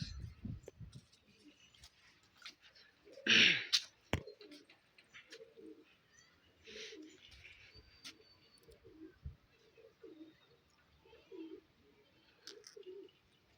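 Pigeons in a loft give soft, low cooing calls that repeat through the stretch, with a sharp flutter or clatter near the start and wind noise underneath, heard fairly close.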